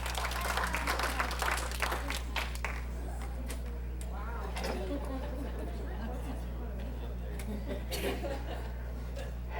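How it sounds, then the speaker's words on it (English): Audience applause mixed with chuckles and chatter for a magic show volunteer at a 95th birthday party, steady clapping over a low constant hum, with people talking in the room. "Give him another round of applause."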